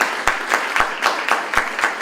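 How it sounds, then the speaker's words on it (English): Audience applause at a Howard University humanities event, heard as a short burst of scattered hand claps with a few sharper individual claps, moderately close and without talk. "Let's have a round of applause for that."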